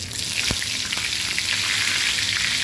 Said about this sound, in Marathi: आपल्याला इथे हिंगाची फोडणी द्यायची आहे